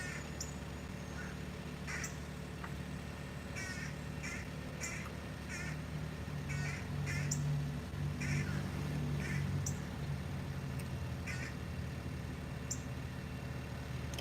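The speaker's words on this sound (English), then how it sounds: "those are crows all around me." Crows cawing all around amid steady low background rumble and distant murmur, short harsh calls repeating in clusters from several directions, moderately loud over the constant hum.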